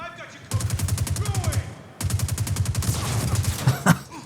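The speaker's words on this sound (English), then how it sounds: "Oh no, he threw a grenade." Rapid automatic gunfire in the video game Star Citizen, two sustained bursts of fast, evenly spaced shots, loud and close, ending in a heavier thump near the end.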